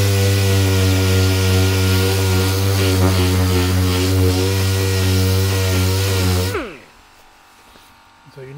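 A power sander with 80 grit sandpaper works a Suzuki Wagon R wheel trim, a loud, steady, close buzz that cuts off abruptly near the end, leaving near silence.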